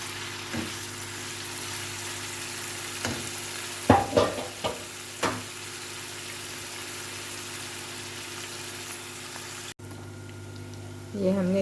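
Carrot halwa being roasted in milk in a pan, a steady low sizzle and bubbling with a few sharp stirring scrapes of a spoon against the pan midway, continuous and close, no talking.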